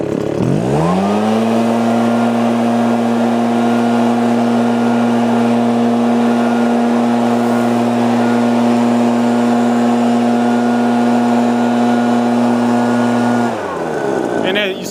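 Husqvarna 570BTS backpack leaf blower started up outdoors, its engine quickly rising to a loud, steady high-pitched drone that holds for about twelve seconds before winding down.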